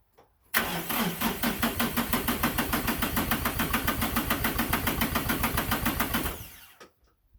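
A diesel engine cranks with the glow plugs already used, a loud, steady rhythmic starter churn lasting about six seconds without catching, then winding down to quiet.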